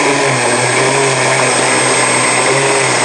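Two Leopard and two 540XL electric motors run together on one ESC, producing a loud, constant high-pitched whine with steady tonal hum and no change for the whole stretch, unaccompanied by talk.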